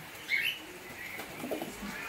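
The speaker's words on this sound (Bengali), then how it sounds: "এই যে ডাক করছে, একটা মুরগির মতন সাইজের পায়রা" A large, chicken-sized male pigeon in breeding condition gives a short, soft cooing call, close and alone, with a faint flutter of movement around it.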